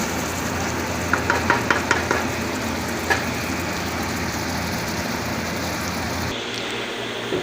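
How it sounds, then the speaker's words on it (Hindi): Sliced onions fry in hot oil for a bhindi dish, giving a steady, even crackling hiss with a short run of light ticks and taps early on, then settling into continuous frying noise. "2 से 4 मिनट ऑयल में फ्राई कर लें।"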